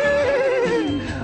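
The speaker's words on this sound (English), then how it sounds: "I heard my horse" A horse neighs loudly and close in a single long, wavering whinny that falls in pitch as it fades, used as a sound effect in a children's song.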